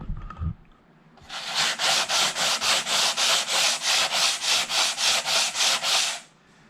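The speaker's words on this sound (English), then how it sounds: "So now we're in the process of sanding." Oak wood is sanded by hand in fast, even back-and-forth strokes, about fifteen regular swishing rubs close by, after a brief knock at the start, with no talking.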